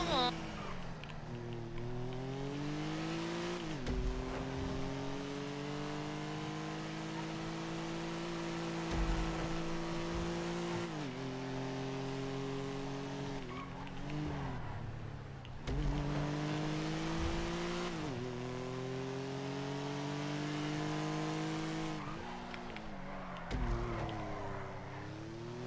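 Game car engine from a GTA RP roleplay session, droning steadily with repeated rises and drops in pitch as it accelerates and shifts, loud and continuous under people talking.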